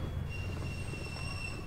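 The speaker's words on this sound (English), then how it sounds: "There's a train over here, bro." A train rolls along in Garry's Mod, its wheels squealing in thin, steady high whines over a continuous low rumble, close and constant throughout.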